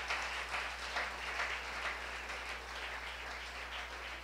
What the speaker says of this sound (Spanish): Aplaudan al Rey, que Él vive para siempre.